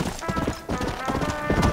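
Horse hooves clip-clop steadily in the Undead Nightmare video game, a quick rhythmic trot running under continuous talking throughout.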